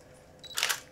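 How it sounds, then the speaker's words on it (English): A Nikon D40X DSLR fires its shutter once, a quick close mechanical clack preceded by a faint autofocus whir in an otherwise quiet room. "Shutter's firing, autofocus on the lens is working"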